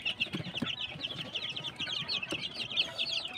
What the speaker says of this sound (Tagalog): So dami-dami na yun mga kapanok.